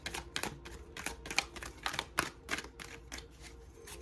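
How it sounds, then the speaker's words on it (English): A deck of oracle cards is shuffled in a quick series of crisp, rhythmic riffling bursts, close and fairly quiet, with no talking. "I'll shuffle a bit."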